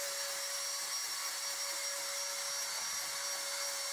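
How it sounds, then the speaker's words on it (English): Electric belt file leveling the legs of a wooden mid-century modern style coffee table, a steady high-pitched motor whine with abrasive rasp, continuous and close for the whole stretch, no talking. "I use my electric belt file to level the legs."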